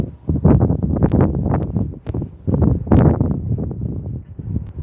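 Strong gusting wind from Storm Jocelyn buffets the microphone inside a car driving at night in England, in loud, uneven surges, with brief sharp rattles and knocks mixed in.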